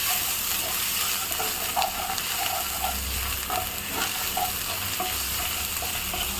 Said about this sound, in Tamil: கருவேப்பிலை கொஞ்சம் போட்டுக்கலாங்க